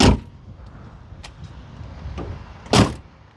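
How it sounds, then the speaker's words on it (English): A 1968 Ford Thunderbird's door is shut with a solid thump, after an earlier clunk and a couple of light clicks and rattles, close by in a quiet setting. "But just listen to how these doors close."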